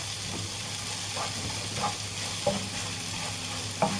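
A large spoonful of minced garlic sizzles steadily in a hot pan, a constant frying hiss with occasional light scrapes of stirring.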